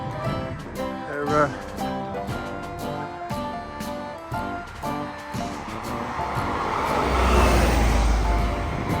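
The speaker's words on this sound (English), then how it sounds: "Here comes some buses now, in fact." Buses pass along a street in Krynica Morska, northern Poland, their rumble swelling into a broad rush near the end, with a voice and tonal background sound over the traffic.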